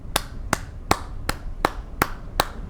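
Seven single hand claps, sharp and close, spaced evenly about every third of a second in an otherwise quiet room.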